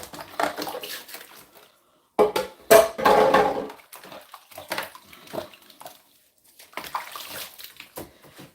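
Water runs and splashes over a plastic juicer cup being washed in a sink, coming in uneven bursts with short silent gaps and light clatters of the cup.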